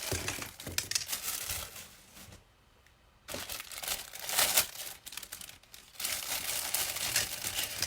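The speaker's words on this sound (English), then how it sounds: "I know cellophane sounds really awful on a live." Cellophane wrapping crinkles and crackles loudly up close in irregular handling bursts, with a short near-silent pause partway through before the rustling resumes.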